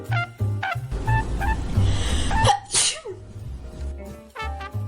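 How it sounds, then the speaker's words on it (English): One loud, close human sneeze bursting out after a few sniffs and breathy gasps, with another sharp burst following, all alone without talking. "emergency sneeze launch in 3, 2, 1"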